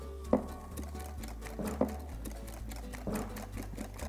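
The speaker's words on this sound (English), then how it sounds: "we're just going to whisk it until it begins to hold its shape. I'm doing it by hand." Cream and icing sugar whisked by hand in a bowl, giving soft rhythmic clicks and scrapes of the whisk against the sides over a low steady hum, with a couple of louder taps.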